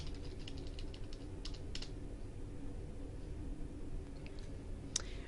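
Fingers typing on a computer keyboard at close range, a quick cluster of light key clicks at the start followed by quieter scattered taps and a single louder click near the end, over faint room hum.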